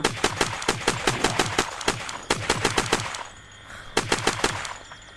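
Rapid automatic gunfire from a weapon in the zombie survival video game Unturned, loud and close, in two long bursts separated by a short lull of quieter ambient noise.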